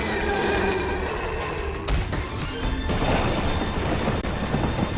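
A horse whinnies in an English-dubbed anime battle scene, a shrill neigh mixed with crashes and thuds of fire and chaos, loud and close with no talking over it.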